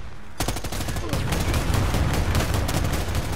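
Rapid automatic gunfire crackles in the Predator: Hunting Grounds video game, with dense repeated bursts of shots running almost continuously after a brief quiet start, loud and close, with a voice talking over it.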